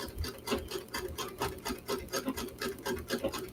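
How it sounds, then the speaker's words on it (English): A sewing machine stitching in a quick, steady mechanical rhythm, close by, with no voices. "Beautiful sounds of the sewing machine."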